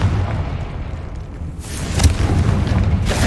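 A Confringo fire spell blast in the video game Hogwarts Legacy, a low booming rumble that swells into a bright crackling burst partway through, continuing loud to the end.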